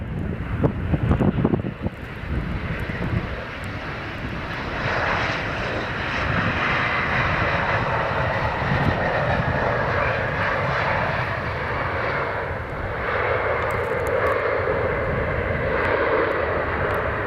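Airliner or business jet landing on runway 26 at Ronaldsway on the Isle of Man, a steady loud engine roar held at close range throughout with gusty wind buffeting the microphone.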